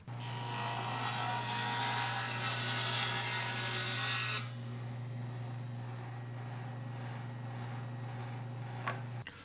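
A 7.5-inch circular saw blade cuts through a 1x2 wooden board, a loud harsh rip for about four seconds, then the motor keeps humming as it winds down.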